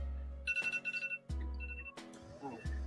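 A phone rings with a quick run of bright, repeating electronic tones, followed by further short ring bursts between low background sounds.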